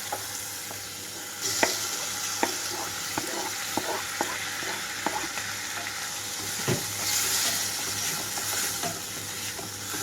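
Soaked moong dal and chopped tomato dropped into onions frying in oil, a steady sizzle with scattered clicks of a spoon stirring, the hiss swelling briefly as the wet ingredients hit the pan.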